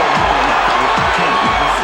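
A boxing arena crowd roars steadily as a fighter goes down in the first round, a dense, sustained wall of cheering and shouting rising toward a knockout.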